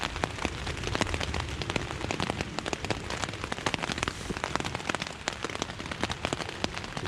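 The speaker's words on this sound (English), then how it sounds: "it started raining." Steady rain patters on a tent in autumn woodland at night, a dense, continuous drumming of close drops with sharper individual hits scattered throughout, no voices.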